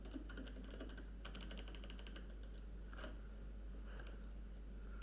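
Rapid clicking keystrokes on a computer keyboard, irregular bursts and short pauses over a steady low hum, close and fairly quiet.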